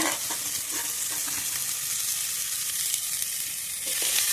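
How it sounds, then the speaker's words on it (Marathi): Chopped onion sizzles loudly in hot oil in a heated pot, a continuous frying hiss broken by the scrape of stirring, with no voices over it. "त्यात कांदा टाकून घेऊया."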